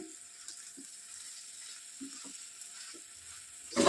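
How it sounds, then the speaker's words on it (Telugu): Salted potato samosa filling is mixed and fried in a pan with a low, quiet sizzle and occasional light taps, ending in a sudden louder scraping burst. "దీన్ని బాగా మిక్స్ చేస్తూ ఫ్రై చేసుకోవాలి."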